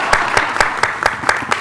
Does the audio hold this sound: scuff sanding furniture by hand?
no